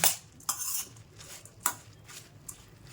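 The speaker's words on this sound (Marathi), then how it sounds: "आता हे मी चांगलं मिक्स करून घेणार आहे." Oli bhel, a fresh chickpea and pomegranate snack, is tossed in a bowl with a utensil, giving a few sharp scrapes and clinks between softer rustling stirs, close and fairly quiet.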